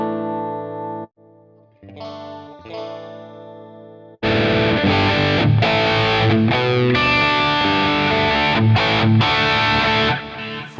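Electric guitar run through factory presets of the Scuffham S-Gear amp simulator plugin, including Wayfarer and Boogie-style tones, with sparse clean chords first, then loud, dense distorted playing with chorus and effects, close and alone.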